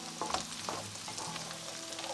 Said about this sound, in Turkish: Soğanlar hafif kendini salınca hemen havuçları ekliyorum ve karıştırıyorum.